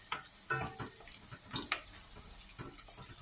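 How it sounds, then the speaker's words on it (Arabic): Garlic frying in a pan with onions, a faint, soft sizzle with light clicks and scrapes of stirring at a modest distance. "زيدو رميو ربع سنينه تاع الثوم خليوها تزيد تقلى شويه"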